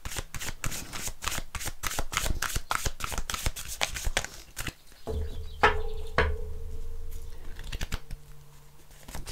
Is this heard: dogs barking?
no